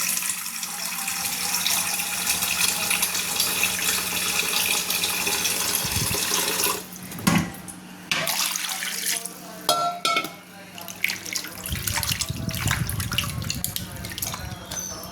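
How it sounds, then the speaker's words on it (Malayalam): Running tap water splashes and gurgles steadily as raw chicken is washed for homemade dog food, with a few shifts and knocks in the sink and a person talking over it. "ഒരു 2 പ്രാവശ്യം ഇത് കഴുകി വൃത്തിയാക്കണം."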